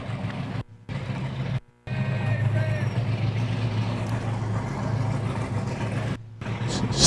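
A race car runs down the drag strip at a hot rod reunion event, a loud, continuous engine roar rumbling under commentator talk with brief cut-outs.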